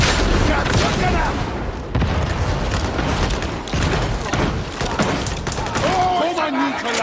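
Video game combat with a frag grenade blast and bursts of gunfire, loud booms and rattling shots layered over shouting voices, ending with a rising electronic whine.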